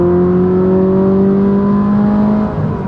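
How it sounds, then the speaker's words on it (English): Engine of a 2022 Subaru BRZ fitted with a K&N intake revving loud and steady, its pitch holding then dropping near the end as the car downshifts into third at highway speed. "Can I downshift to third at 55 miles an hour?"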